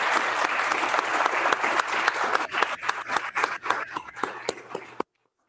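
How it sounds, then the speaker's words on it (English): A room of club members, standing at a Rotary meeting, gives a round of applause to welcome new members: loud, dense clapping for about five seconds that thins to scattered claps before stopping abruptly. "welcome our new members with a round of applause"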